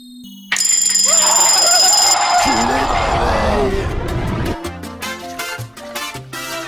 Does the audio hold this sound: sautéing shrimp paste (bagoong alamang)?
no